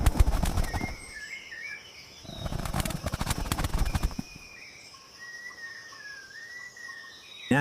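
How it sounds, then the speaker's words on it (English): A young Nicobar pigeon flaps its wings as it takes off and glides to a branch, giving a few bursts of rapid wingbeats. Faint bird calls sound in the background. "The young pigeon, approaching maturity, pushes off and glides toward the second branch, finding its grip with minimal slip."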